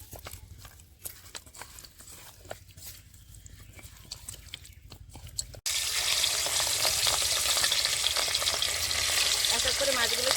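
Seasoned grass carp pieces dropped into hot oil: quiet clinks and handling at first, then a sudden burst of loud, steady sizzling that carries on close up.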